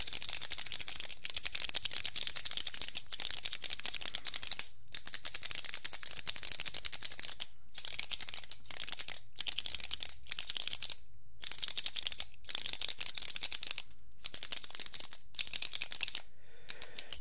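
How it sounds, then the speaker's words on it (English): Pens handled and clicked up close in a quiet room, a rapid, continuous run of crisp plastic clicks and rattles broken by short pauses, with no voice. "These pens, can you hear them?"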